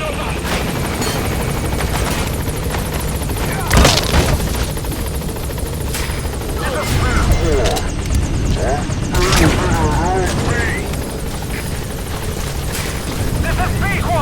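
A support helicopter in the video game Metal Gear Solid 5 drones on steadily throughout, loud and continuous, with bursts of gunfire and radio chatter in other voices layered over it.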